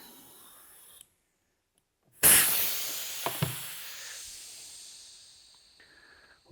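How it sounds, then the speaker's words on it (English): Air hisses out of a deflating motorcycle tire inner tube during a tire change, a loud broadband rush that starts abruptly after a brief silence, with a couple of small pops, then steadily fades as the tube empties. "Let the air come all the way out."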